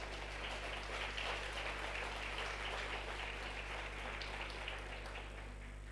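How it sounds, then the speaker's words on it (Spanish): A church congregation claps together during a Spanish-language sermon, a steady, dense patter of many hands heard at a moderate distance, with no voices over it and a low electrical hum underneath. "¿Cuántos pueden darle un aplauso al Señor por la salud y por todos los bienes que Él le da?"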